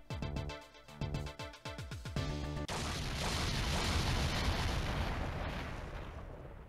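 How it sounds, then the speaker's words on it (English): A loud, synthetic rising tone gives way to a booming explosion in the video game Ghost Trick, followed by a long, roaring rumble of debris that slowly fades. "I think I heard an explosion somewhere."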